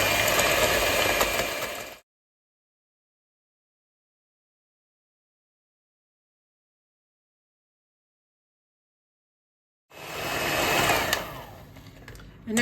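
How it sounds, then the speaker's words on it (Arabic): An electric mixer whirs steadily at close range as it beats marble cake batter until fluffy, then cuts out into a long silence before starting again at the same even hum. "هنا كنسالي من التطرا مزيان حتى كيطلع عندي الخليط هكا مهوي مزيان"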